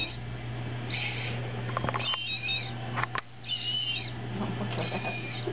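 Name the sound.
imitated bird call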